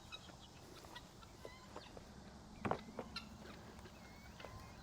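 Pet birds let out a few short clucks, with one louder burst near the middle, over steady low background noise.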